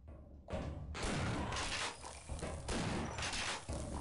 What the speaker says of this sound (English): reload our shotgun so I can shoot more in the face